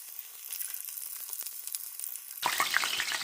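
Hamburger meat for New Mexico style fried tacos crackles and sizzles in a pan, a soft steady fry that suddenly swells into louder, denser spitting near the end, close by with no voices.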